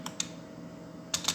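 Short bursts of computer keyboard typing while entering data in an Excel spreadsheet, a few quick clustered keystrokes near the start and again near the end, with quiet room tone between them.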